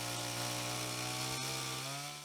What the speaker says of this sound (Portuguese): O barulho da motosserra é a trilha sonora que mais se escuta no acampamento Farroupilha.